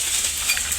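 Whole spices and tamalpatra (bay) leaves sizzle steadily in hot oil for a tempering in a village-style kitchen, a dense close crackle with a few brighter pops and no talk.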